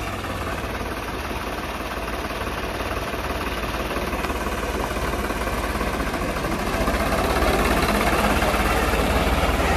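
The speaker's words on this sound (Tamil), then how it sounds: "இப்ப நம்ம ப்ரோ பாத்தீங்க அப்படின்னா டிராக்டரை எடுத்து வந்துட்டாரு." A tractor engine idles on a beach beside a fishing boat, giving a steady low rumbling drone with mild knocking. It holds constant and rises slightly toward the end, with no talking.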